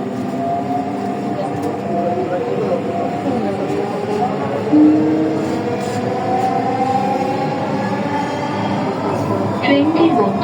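Dhaka metro rail train running along its line, a steady loud rumble with rising and falling motor whine throughout, heard from inside the carriage with faint voices underneath.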